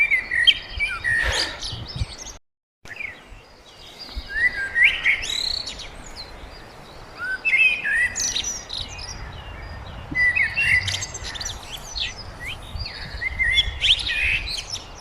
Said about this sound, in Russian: Вам слышно, как птички поют?